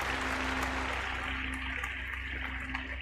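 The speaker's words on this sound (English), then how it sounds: "And a nice round of applause for you, Alana." A round of applause on a call-in show, a steady wash of clapping heard evenly throughout, with no talk over it.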